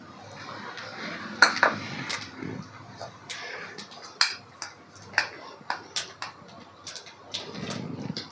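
Urad dal frying in oil in a pan for a goat blood stir-fry: a low, steady sizzle broken by sharp, irregular pops and clicks, some louder ones close by, with no talking.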